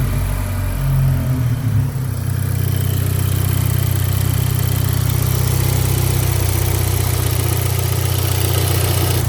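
A Volkswagen Golf MKV GTI with a K04 turbo runs steadily on a road test, giving a loud, constant engine drone with a deep low hum that holds evenly throughout.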